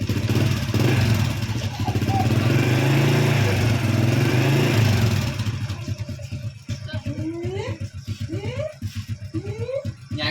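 A walking tractor's small single-cylinder engine chugs loudly and steadily nearby, then strains and labors with uneven rhythm while climbing uphill as voices talk over it.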